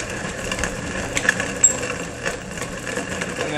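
A homemade grinder works chaga mushroom, giving a continuous rough mechanical whir with intermittent rattling knocks and crunches, moderately close and fairly quiet.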